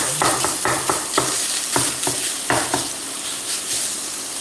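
Sausage fries and sizzles in a pan that is a little too hot, with repeated scraping stirs and clinks of a utensil against the pan during a late-night Italian dinner cook, loud and close with no talk.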